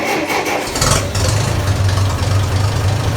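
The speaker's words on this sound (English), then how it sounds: "I'm gonna just start it again." Massey Ferguson 65 tractor engine cranking briefly, then catching and settling into a loud, close, low rumbling idle with a steady throb.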